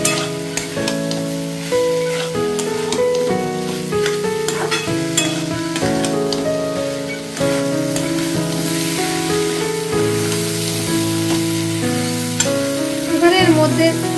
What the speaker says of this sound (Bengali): 2-3 মিনিট ধরে এটা ভালোভাবে কষিয়ে নেবো